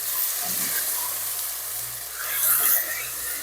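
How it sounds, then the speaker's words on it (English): Beef bone broth sizzles and hisses loudly in a hot pan on a wood stove, stirred to deglaze, with a steady frying crackle that swells briefly near the end, no talking. "Stir it to deglaze."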